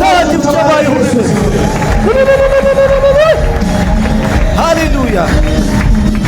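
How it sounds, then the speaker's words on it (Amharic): A church congregation fills a loud, dense space with high wavering ululation and rapid clapping and cheering, one continuous celebratory roar. "እልልታ ጭብጨባ ይሁን።"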